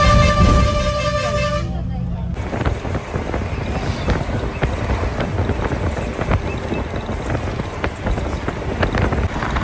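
Interior of a moving bus, with a steady rumble and rattling ride noise and a loud horn-like tone at the start. Faint voices are audible underneath.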